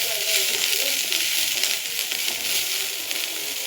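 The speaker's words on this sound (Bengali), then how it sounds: "এবার পেঁয়াজটা দিয়ে হালকা করে ভেজে নেব, যাতে সবজির কাঁচা গন্ধটা চলে যায়।" Onion added to already-fried carrot and capsicum in a pan for white sauce pasta, giving a steady broadband sizzle and hiss that holds at an even level throughout, with faint clinks and stirring beneath.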